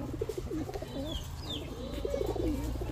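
Pigeons coo in soft repeated rolling phrases, close and moderately loud, with low background noise beneath. The birds are a pair offered at a market stall.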